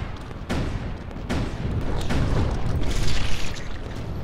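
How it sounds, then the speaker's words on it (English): Grenades exploding in rapid succession in the video game OpenArena, several loud booming blasts that overlap into a continuous rumbling barrage. "It is time to spam some grenades."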